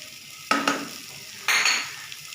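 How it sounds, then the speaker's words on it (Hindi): Grated sweet potato, half a kilo, being mixed by hand or spoon in a bowl, giving two short bursts of rough scraping and stirring noise separated by quieter moments, close and fairly clear with no talk. "इन्हें अच्छी तरह मिक्स कर लें"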